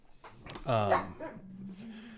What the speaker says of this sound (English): my dogs are going to get really loud here.